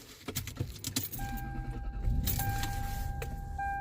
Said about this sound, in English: Let me just put the key in the ignition real quick to show you.